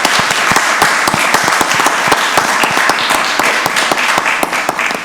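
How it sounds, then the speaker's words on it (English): A round of applause fills a county board of commissioners meeting, steady, dense clapping from a roomful of people, loud and continuous throughout without any talk over it. "let's give them another round of applause."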